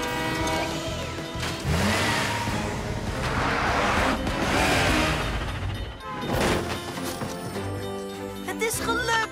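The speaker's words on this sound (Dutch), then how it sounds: "Schiet op, de trein is er al bijna." A cartoon train approaching with its horn sounding in the animated series PAW Patrol, a loud rumble and horn blasts building over a busy music score with sound effects, continuing through the whole stretch.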